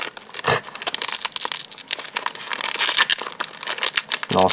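A Pokémon card booster pack is torn and crinkled open up close, its foil wrapper giving a dense run of crackling, crumpling and ripping noises, loud and uneven, with no one talking.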